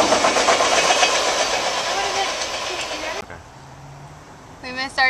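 A train in a New York City station pulls away with a loud rushing, hissing roar that cuts off abruptly, leaving quieter platform ambience with a faint low hum and brief voices near the end.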